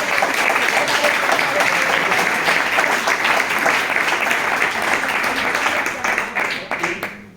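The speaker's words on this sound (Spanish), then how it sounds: "ahora sí os pido para mí un fuerte aplauso" An audience at a talk about air cargo breaks into loud, sustained applause, dense clapping that holds steady for several seconds before thinning and fading out.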